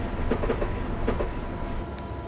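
A train in Train Simulator 2015 rolls along the rails with a steady low rumble and rhythmic clickety-clack of wheels over joints, heard close and continuous with no voices.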